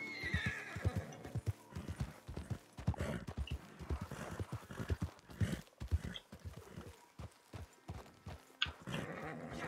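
A horse in the Red Dead Online video game clip-clops along with rhythmic hoof beats and lets out several neighs and whinnies, loud and close.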